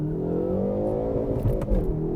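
A 2020 Hyundai Veloster N revving hard at full throttle in N mode while in first gear with the clutch in, a steady, loud, buzzy engine drone holding at high revs without pause.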